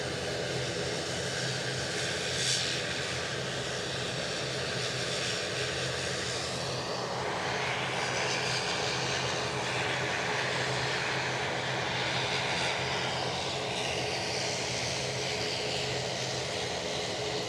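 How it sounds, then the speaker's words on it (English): A 24-year-old British Airways Airbus A319-100 landing at Edinburgh Airport from London Heathrow produces a sustained, moderately loud engine roar with gradual shifts in tone as it passes, no voices present. "British Airways inbound from London Heathrow with their Airbus A319-100"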